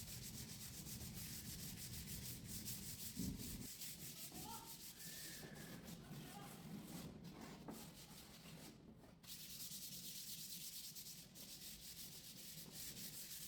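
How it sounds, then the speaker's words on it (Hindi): Sandpaper of 150 grit, waterproof type, rubbed hard over putty-filled MDF furniture, giving a steady, continuous scratchy friction close by, with brief pauses in the strokes and no voices. "सूखने के बाद में इसकी हमें सैंडिंग करनी है उसी रेगमाल से जो हमने पहले लगाया था, 150 नंबर का वाटरप्रूफ रेगमाल।"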